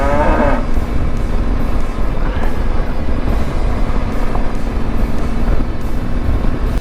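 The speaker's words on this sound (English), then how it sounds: "I guess that's beef cattle" Beef cattle low out in rural Prince Edward Island countryside, a moo rising near the start over steady, loud motorcycle engine and wind rumble that continues throughout.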